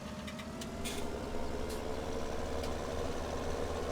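A small loader tractor engine runs inside Farming Simulator 17, giving a steady low idling rumble at close range with a few faint clicks over it and no voices.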